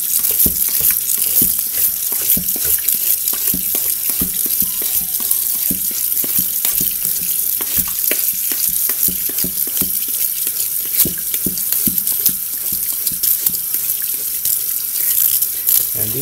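Water runs steadily into a sink for a long stretch, splashing and clattering against the basin with occasional knocks.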